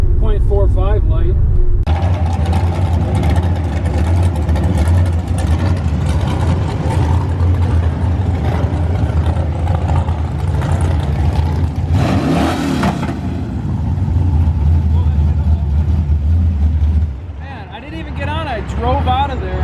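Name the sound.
drag racing pickup trucks engines, supercharged 5.3 vs small-block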